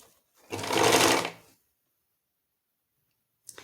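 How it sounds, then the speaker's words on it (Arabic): Sewing machine stitching fabric for a girl's dress, one sustained burst of close, fast stitching about a second long, then silence and a brief click. "أبدأ أخيط في هذه المنطقة، أبدأ أخيط هنا كامل على المسافة هذه"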